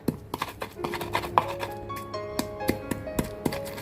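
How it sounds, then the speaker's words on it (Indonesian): Spices are pounded by hand in a mortar with a pestle (ulek) while making a street-cart-style chicken noodle dish, giving a steady run of sharp, close knocks, with faint tones in the background. "Ini Mae lagi pengen ngulek aja"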